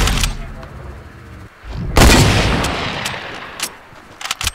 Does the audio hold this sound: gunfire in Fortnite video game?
yes